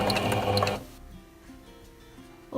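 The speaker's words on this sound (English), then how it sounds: "So I'm now going to start sewing it together and see how it comes out." A sewing machine runs a straight stitch through dog bed fabric in one short, close burst of about a second, then stops. Faint handling clicks follow in the quiet.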